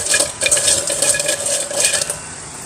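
Crispy deep-fried gavvalu sweets handled in a metal bowl give a continuous run of light, brittle clinks and rattling crunches, close and fairly loud with no speech.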